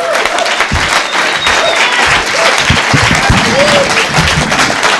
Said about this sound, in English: Please, a nice round of applause, Mr. John Riggi.